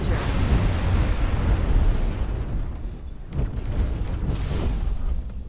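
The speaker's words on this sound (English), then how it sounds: "Explosion imminent." A loud, rumbling explosion strikes a ship in a space video game, a dense roaring blast that swells, dips and builds again, with no voices over it.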